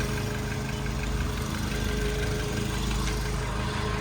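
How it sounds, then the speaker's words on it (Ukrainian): A generator hums steadily and continuously nearby, a constant engine-like drone beside a parked Skoda Fabia, with no voices. "Це гуде генератор, друзі, не звертайте увагу, це не автомобіль."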